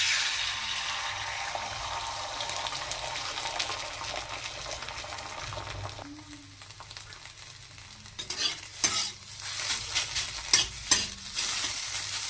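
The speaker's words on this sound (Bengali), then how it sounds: "এবার ডিমটা দিয়ে দেবো ভুজিয়া বানিয়ে নেবো" Beaten egg for bhujia fries in hot oil in a wok with a loud, continuous sizzle; partway through the hiss dips, then scraping stirs and bubbling crackle pick up, close and without talk.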